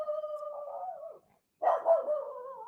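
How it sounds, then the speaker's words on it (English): A guard dog barks and howls in two drawn-out, tonal calls, close and loud, separated by a brief silence, with no talk over it. "He's a good guard dog."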